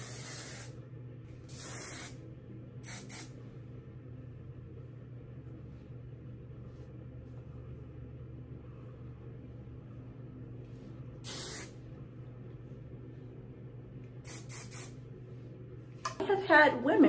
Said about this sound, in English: Let's hit it with my favorite spray.